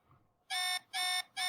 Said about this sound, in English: Is that the alarm? It sure is.